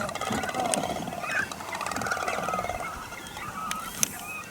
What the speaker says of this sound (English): the cormorants went nuts again, raising a racket